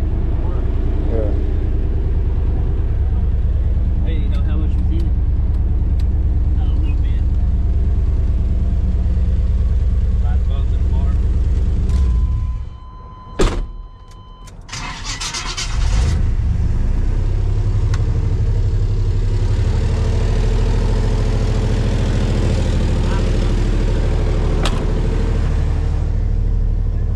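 A vehicle engine idles steadily with a low, continuous rumble, cut off briefly near the middle before it resumes, while people talk over it.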